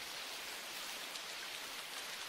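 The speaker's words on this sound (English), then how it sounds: "If you'd gone out into this rain" Steady, even rain pouring down, an anime sound effect of a wet downpour, broadband and constant throughout with no voices.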